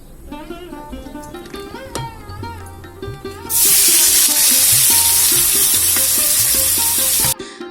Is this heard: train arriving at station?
no